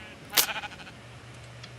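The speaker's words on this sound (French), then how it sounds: "Il y a un mouton vert juste derrière toi" A brief sheep bleat from a Minecraft-style video game, one loud cry near the start followed by quieter game sounds and a faint low tone.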